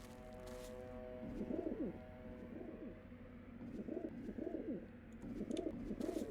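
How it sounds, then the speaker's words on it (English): Pigeons in the video game Deus Ex coo in repeated soft, rolling calls that come in small clusters over a low steady background hum, fairly quiet and close. "I love these pigeons"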